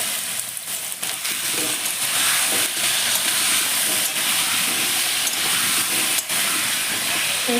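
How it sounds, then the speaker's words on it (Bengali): Potatoes frying in hot oil with salt and turmeric give off a close, steady sizzle and hiss that continues without a break throughout, with a few brief crackles. "এবার আমি লাল লাল করে আলুটাকে একটু ভেজে নিই"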